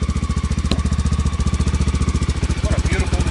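A 1986 Honda XR600R four-stroke dirt bike chugs close by with a fast, even, thumping exhaust pulse that stays loud and steady throughout.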